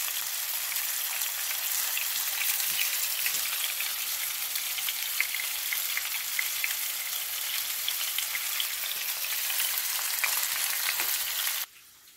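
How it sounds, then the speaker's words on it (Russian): Steady, dense sizzling of tench frying in a hot pan, crackling evenly throughout and stopping abruptly near the end. "Линь пожарился у нас, вот так вот подрумянился."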